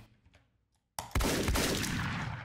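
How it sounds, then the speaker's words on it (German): In the video game Deadbolt, after a near-silent moment, a loud shotgun blast hits, then another, followed by a long roaring decay, with no talking. "für die zwei Schuss war es doch sehr, sehr gut"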